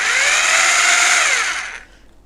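A heavy two-handled power drill fitted with an SDS spiral mixing paddle whirs at high speed with a steady bright whine, then winds down and stops near the end.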